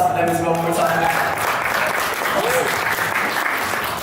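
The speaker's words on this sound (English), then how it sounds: "So can I get a round of applause for them as well one more time?" A crowd at a gaming showdown event applauds its partners with loud, dense, sustained clapping that carries on steadily without a break, joined by scattered cheering voices.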